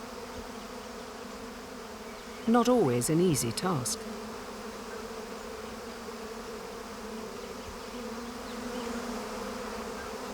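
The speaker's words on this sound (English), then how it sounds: "the returning bee must make its way into the hive to deliver its precious cargo" Bees buzzing at an exposed hive, a steady low drone under a narrator's voice, with one nearer bee whining loudly past for about a second.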